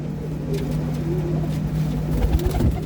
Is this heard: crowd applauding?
no